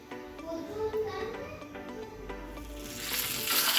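Cumin and mustard seeds tempering in hot oil for a chutney tadka, a steady bright sizzle with faint crackles and pops that swells louder toward the end, no voices over it.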